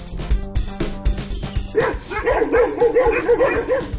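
Several dogs bark and yip in quick, uneven bursts, close and fairly loud, with a higher whimpering, yelping voice joining in later, in a Russian town where stray dogs gather.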